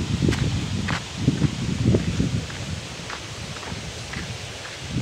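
Strong wind blows outdoors among trees near a house, stirring leaves in steady gusty rustles, with scattered light knocks and footstep-like crunches close by, no talking.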